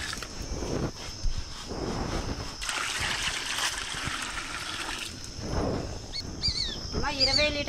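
Roughly twenty litres of water splash and trickle into a container to make Beejamrutham for seed treatment in Karimnagar, a steady close pouring wash with voices talking over it.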